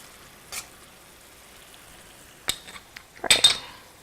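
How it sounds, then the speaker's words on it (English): A spoon stirring mustard into chicken sauce in a pan, giving a few short scraping clinks against the metal with a brief cluster of louder knocks near the end, close and clear over a faint kitchen hiss. "Now I'm gonna add this in and then give it a quick stir."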